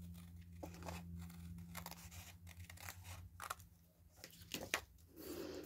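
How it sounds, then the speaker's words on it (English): Scissors snip through craft material, a run of short close cutting and crinkling strokes over a steady low hum, quiet and without talk. "So I'm going to cut this off"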